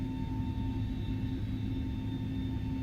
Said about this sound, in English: And the airplane's slowly rolling.